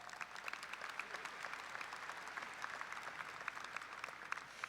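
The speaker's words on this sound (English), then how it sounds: "Please give him a round of applause." Commencement crowd at a university graduation applauds an honorary doctorate recipient, a steady, fairly distant and faint roll of many hands clapping in a large hall.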